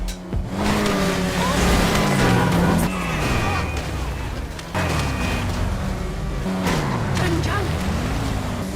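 A Hakuchou Drag motorcycle races through Los Santos in GTA Online, its engine revving hard and climbing through repeated gear shifts, loud and close, with brief drops between rising whines.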